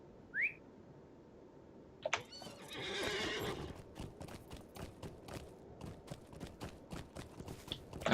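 A horse in the Lord of the Rings Online video game whinnies with a rising neigh early on, followed by a burst of snorting and a steady run of hoof clip-clops throughout, fairly close and without talk.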